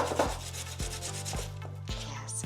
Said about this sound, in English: Yes, I'm going to grate.